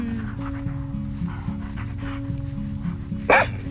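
A dog barks repeatedly in a steady rhythm at moderate distance, with a brief sharper burst near the end.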